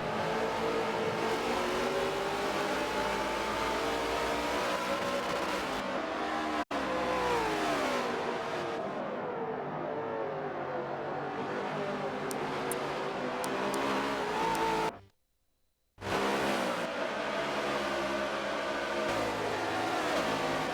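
Race cars in a racing video game at Mazda Raceway, a tight track, rev and accelerate through first laps, engine notes rising and falling loudly with several cars overlapping, a brief dropout near the end.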